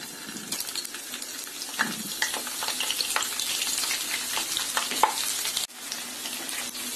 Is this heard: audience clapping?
no